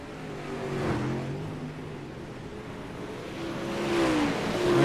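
Super late model race cars run laps at Lanier, a steady roar of engines sweeping by at mid distance, fading slightly then swelling louder as the cars approach near the end.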